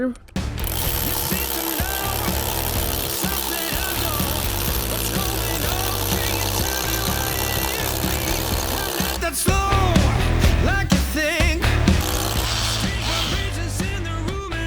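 Cordless Revolt RH 2030 HD rotary hammer drilling with a 16 mm bit, a loud continuous rattling hammer-drill roar running throughout with a heavier surge near the end, close and dominant.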